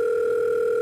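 A steady two-tone telephone call tone from the horror game Five Nights at Wario's 3, loud and continuous for under a second with no voices.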